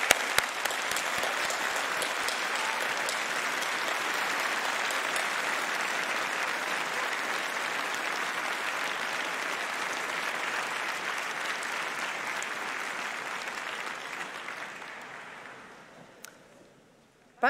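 A large audience applauds graduates of the chemistry department at a university commemoration ceremony, a long, even wash of clapping that holds for many seconds and then tapers off to quiet.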